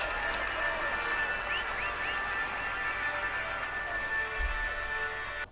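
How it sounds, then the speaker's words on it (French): Crowd applause at a Tour de France stage finish in a cycling video game, a steady wash of clapping and cheering under a looping musical tone and chirping effects, continuing without pause. "Allez, on applaudit encore."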